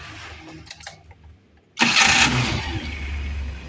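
An engine on a gas-fuelled (BBG) vehicle cranks and catches, starting abruptly and settling into a loud, steady close-up idle after a short quiet stretch.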